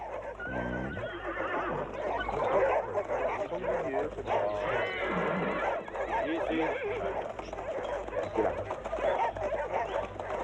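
Horses whinny and neigh amid a noisy outdoor scene, with dogs barking and people talking over the top.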